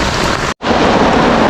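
Heavy rain pours down in a forest in Taiwan, a loud, dense and steady roar of drops that cuts out for a split second before resuming at full strength.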